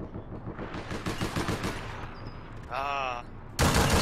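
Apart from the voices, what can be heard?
light machine gun fire in the video game APB Reloaded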